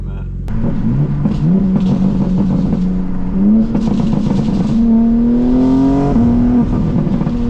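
A BMW G80 M3 accelerates hard with a loud, close engine note that climbs in pitch through several stepped gear shifts, each shift briefly dropping the tone before it rises again.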